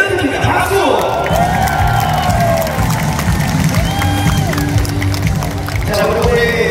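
A lively audience at a table tennis tournament cheers and claps loudly, with whoops and shouts rising over a constant crowd roar for several seconds.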